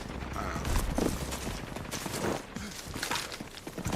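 Gunfire in the video game Rage 2, a faint scattered burst of shots and impacts mixed with clatter, fairly distant and irregular over a few seconds.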